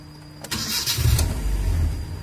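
Carbureted 1800cc Toyota Kijang engine catching and running after a brief start, settling into a low, uneven idle rumble close by.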